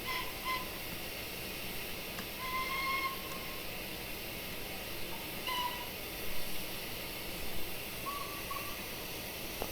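Steam locomotive whistle of an LNWR Greater Britain 2-2-2-2 in the Train Simulator Classic game: several short, fairly faint tonal toots spaced through the clip over a steady, rumbling hiss.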